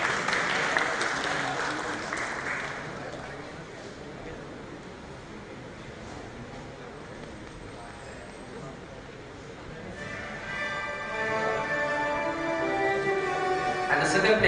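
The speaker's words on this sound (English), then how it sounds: "Please give us a round of applause, ladies and gentlemen." Audience applause at a school commerce day prize-giving for an advertisement competition winner. Clapping fills the opening seconds, then thins to a low murmur before a voice rises over the fading crowd.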